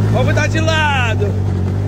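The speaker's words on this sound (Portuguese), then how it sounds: "É o drift!" A car drifting sideways, its engine note climbing in a bright harmonic sweep over a steady low drone, with excited voices shouting close by.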